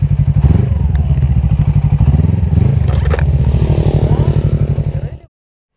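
A Suzuki Inazuma 250cc motorcycle fitted with a 3Tech Evox exhaust rides past, its loud rhythmic exhaust pulsing steadily with a brief rev change midway before cutting off abruptly near the end.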